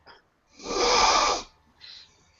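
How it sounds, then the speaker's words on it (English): A man gives one loud, close sniff lasting about a second, with a fainter breath before it and another short sniff afterward. "Galjo sniffs his hands."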